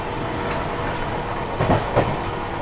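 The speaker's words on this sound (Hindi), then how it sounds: "किसी ट्रेन की हो रही है क्रॉसिंग।" Another train rumbles past a moving Tejas Rajdhani Express between New Delhi and Mumbai, heard from inside a 3AC coach as a steady loud roar with rhythmic wheel clatter and brief swells as it passes.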